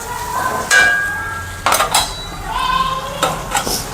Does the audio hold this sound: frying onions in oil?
yes